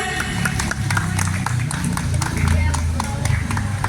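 A gathering at a charity foundation's iftar event for orphans and the poor gives scattered applause, with sharp hand claps over a low murmur of voices and room noise, steady and moderately loud.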